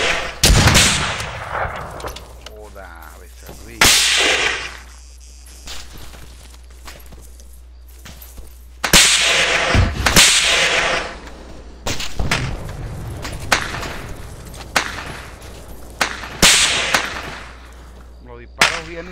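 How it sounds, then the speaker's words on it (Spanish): Bursts of Arma 3 gunfire crack repeatedly, some in rapid automatic strings, others as sharp single shots, with brief quiet gaps between volleys. "Los disparos vienen de abajo"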